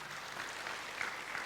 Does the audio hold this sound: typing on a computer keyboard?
no